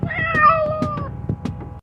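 Cat meowing up close, with several drawn-out, wavering meows running together and small clicks and taps beneath them, then trailing off into quieter noises before stopping.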